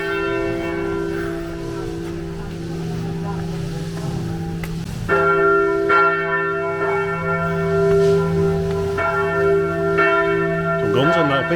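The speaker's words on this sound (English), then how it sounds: "The bell's ringing." Noon bells peal from the church tower in Montecatini Alto, a medieval Tuscan hilltop village, with repeated overlapping strokes and a steady hum of resonance beneath, close and loud throughout.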